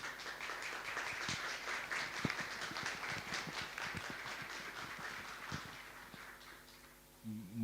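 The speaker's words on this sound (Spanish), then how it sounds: "Recibimos ahora con un fuerte aplauso al doctor Daniel Mato en nuestra Universidad" A university audience applauds to welcome Dr Daniel Mato, soft crowd clapping heard from some distance, steady for several seconds with a few louder hand claps standing out before it fades.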